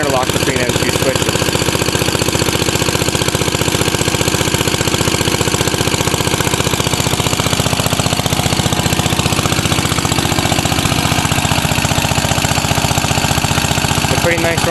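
A 1944 Signal Corps power unit engine running at 1800 RPM: a loud, steady, rapid chugging and knocking that continues unbroken from start to finish, close to the listener.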